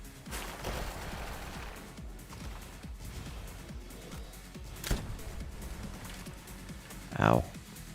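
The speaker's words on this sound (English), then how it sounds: "he just dodges away from the machine gun" Machine gun fire in Palworld rattles as a faint, steady stream of rapid shots under continuous talking, with a louder bang near the end.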